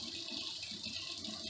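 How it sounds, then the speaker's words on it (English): A kitchen faucet runs hot water in a steady, faint hiss, a short continuous stream with no speech. "So I just turned my faucet on here for a second"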